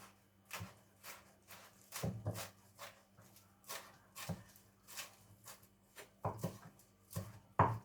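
A knife chops potato on a cutting board in a home kitchen, a series of soft, evenly spaced thuds roughly every half second, fairly quiet, with a faint low hum beneath.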